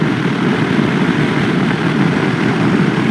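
A QJ Motor SRT900SX motorcycle engine while riding, a steady loud drone with a constant low rumble and no pause, heard alone without speech.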